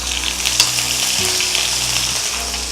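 Small shallots, green chilies and curry leaves fry in hot oil in a pan for a traditional vathal kulambu, giving a steady, dense sizzle that stays loud and even throughout with no voices.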